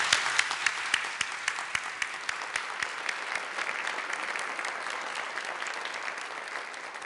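An audience claps steadily for honorees at an anti-trafficking awards event, sustained broadband applause at moderate loudness with a few sharper claps early, easing slightly toward the end without cheering or talk.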